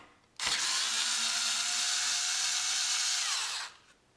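A power driver fitted with a Torx bit loosens a screw on a C8 Corvette steering wheel, one close, steady whir of about three seconds that starts and stops abruptly.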